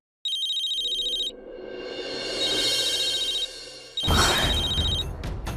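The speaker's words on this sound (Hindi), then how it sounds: "फोन बज रहा है, तुम्हारा है" An electronic mobile phone ringtone trills in two bursts separated by a steady background hum, the second burst louder and joined by a rush of noise.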